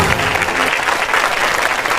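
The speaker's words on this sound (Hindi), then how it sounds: "जोरदार तालियां रेखा जी के लिए।" A studio audience at a comedy talk show breaks into loud, dense applause for the actress Rekha, continuous clapping close and full throughout the brief moment.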